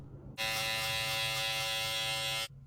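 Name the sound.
Babyliss Pro Gold FX electric beard trimmer buzzing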